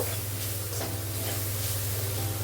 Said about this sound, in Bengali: এভাবে নাড়াচাড়া করে ভালো করে আর একটু ভেজে নেব